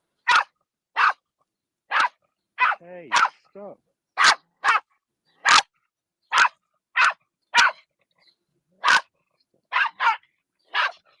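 A small, feisty dog yaps repeatedly in sharp, regular barks heard through a played recording, with a brief whining growl partway through and a person speaking briefly.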